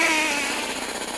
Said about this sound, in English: The echo of the Big Bang we're talking about, that's the echo, and it sounds like this.